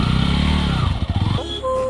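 A BMW 310 GS motorcycle engine runs close by, a steady throbbing idle that breaks into a rough stuttering pulse before settling to a higher hum.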